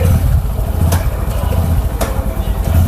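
A Honda Hornet CB125 motorcycle engine runs close by, giving a loud, steady low rumble with a few brief sharper clicks.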